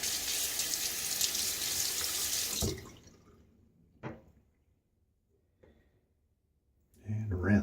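A safety razor rinsed under a running tap at a bathroom sink: a steady loud gush of water that stops abruptly, followed by a few small knocks and clinks in near silence and a last brief splash.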